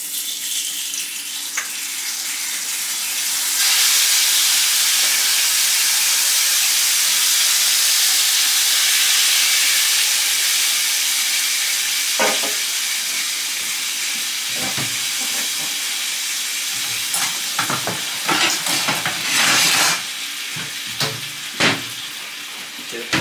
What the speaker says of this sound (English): You're going to sear them